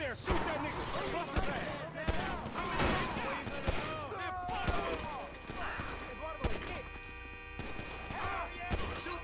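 Gunfire in a GTA 5 match: several sharp shots crack at irregular intervals, fairly quiet and mixed under excited talking from players.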